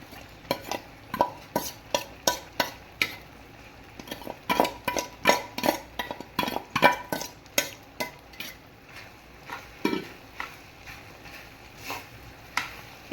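Kozhukattai filling being stirred with grated coconut in a pan, a steady run of rhythmic scraping and clinking strokes from a spoon against metal, close and fairly loud, with a faint sizzle underneath.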